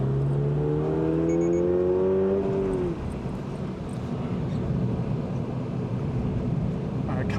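2022 Subaru BRZ engine on the Eastern Creek race track, a rising rev that climbs steadily and then drops sharply as it downshifts under hard braking, followed by lower, rougher engine noise, loud and close.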